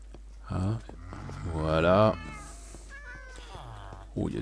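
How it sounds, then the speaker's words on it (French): A cat meows in the Minecraft video game, a few clear in-game mews with rising and falling pitch, while someone talks over and between them. "Oh, il y a du chat ici."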